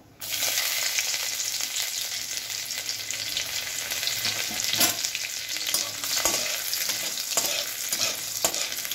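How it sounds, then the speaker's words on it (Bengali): Chopped garlic and a dried chili frying in hot oil: a steady, bright sizzle from start to finish, broken by the occasional scrape or clack of stirring. "5-6টা রসুন আমি এরকমভাবে ছোট ছোট করে কুচিয়ে নিয়েছি। এবার এটা আমি তেলে দিয়ে নেব।"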